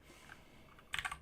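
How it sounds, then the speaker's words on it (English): Keys clatter on a computer keyboard in a short burst of quick typing near the end, following a quiet pause in a home-office setting. "and we can start typing in"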